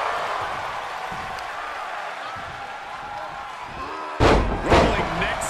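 A wrestling neckbreaker slams onto the mat with a sharp, loud double impact near the end, over a constant roar of a large arena crowd.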